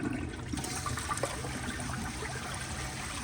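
A round Procemex toilet flushes with a cat in the room, giving a soft, continuous rush and trickle of water at a low level and no voices.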